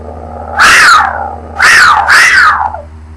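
A person's voice imitating a mountain lion with three loud, close, drawn-out screeching yowls, one alone and then two in quick succession, each sliding downward in pitch and separated by brief silence.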